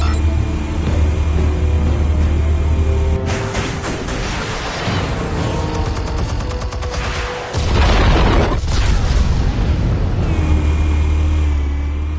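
Explosives detonate in the Batman Telltale Series game with loud, sustained rumbling booms and a heavy low-end roar. A burst of crashing debris and noise follows, then the deep rumble returns.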